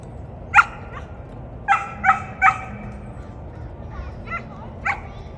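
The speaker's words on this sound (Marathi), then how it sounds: "इथे आहे डॉगी आणि गोट" A dog barks several times in short bursts, a few sharp yips spaced over a few seconds against quiet outdoor background at a campsite with horses and goats.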